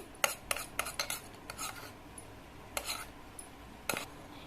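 A spoon mixing rose water and glycerin in a small bowl gives light, irregular clinks and scrapes, a handful of quick metallic taps spread over a few seconds, close and fairly quiet.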